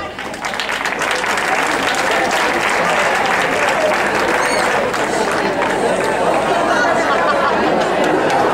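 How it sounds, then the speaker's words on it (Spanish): A loud, dense burst of applause from a large crowd at a carnival performance in Huelma, continuous clapping with voices chattering and calling out underneath throughout. "Un fuerte aplauso."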